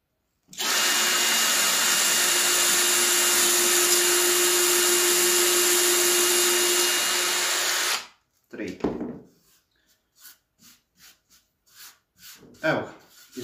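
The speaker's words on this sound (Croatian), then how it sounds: "Evo, izbušili smo 3 rupe, znači gdje će nam prolaziti vijci" Power drill boring holes during a DIY shelf build, one long continuous high-pitched whine lasting about eight seconds, close and loud, followed by brief rustling handling noises and a few short bursts of speech.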